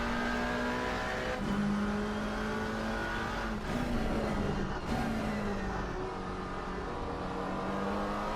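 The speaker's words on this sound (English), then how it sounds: "The McLaren is pretty fun to be driving it, but that sound, ladies and gentlemen." A McLaren GT3 race car in a racing game at Catalunya screams up through the gears, sharp upshifts cutting the high engine note, then shifting down again, loud and continuous with no voices.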